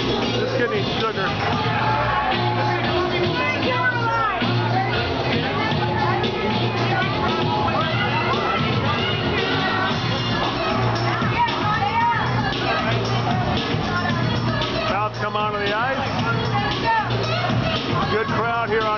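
Crowd hubbub fills a hockey arena on Pink in the Rink night for the Allen Americans, a steady loud murmur of many voices with a commentator talking over it throughout.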